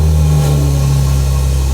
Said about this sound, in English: This is gonna be a cold start.